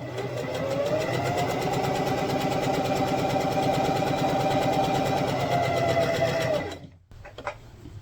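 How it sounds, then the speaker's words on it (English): A sewing machine runs steadily while stitching a fabric cover for a LARP shield, a continuous close whirring hum for several seconds that stops abruptly near the end, followed by faint handling noises. "We are going to pull this to the right and just keep sewing."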